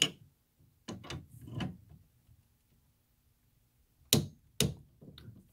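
A torque wrench set to 11 foot-pounds tightening a spin flaring tool on copper tubing, a few soft ratcheting clunks followed by two sharp, close clicks as it reaches the set torque.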